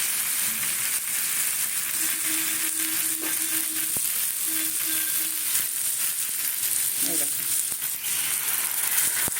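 Potatoes, taro and prawns sizzle loudly in a hot pan as a little warm water is added, giving a dense, continuous hiss with no break.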